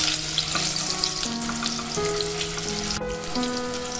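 Potato pieces fry in hot oil with a steady crackling sizzle, close and continuous, while a few brief stirring clinks sound over it and nobody speaks.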